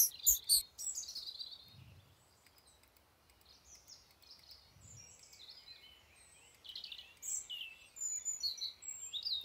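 Small birds in the puzzle game Escape from Castle Claymount chirp and tweet in short, high bursts at the start and again toward the end, fairly faint over a quiet background with a couple of soft low thumps.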